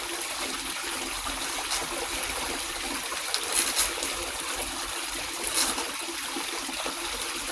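Water runs steadily through a gold panning sluice box outdoors, a constant close rushing wash with faint trickles and a few brief splashy bursts.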